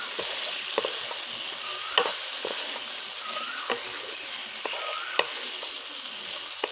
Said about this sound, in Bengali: এবার এর মধ্যে ভেজে রাখা পটল আর আলুটা দিয়ে দিচ্ছি। এবার মশলার সঙ্গে ভালো করে কষিয়ে নিচ্ছি।